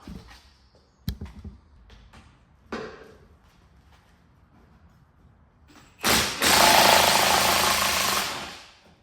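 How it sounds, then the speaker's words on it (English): Loosening the 19mm top mount nut on a Fiat 500 shock absorber: a few sparse metallic clicks and knocks, then a loud, sustained rattling burst from a power tool spinning the nut for about three seconds before it stops. "we need to undo that nut and then the shock will come out. So let's undo that now."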